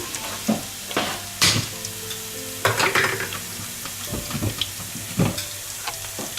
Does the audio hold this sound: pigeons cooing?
no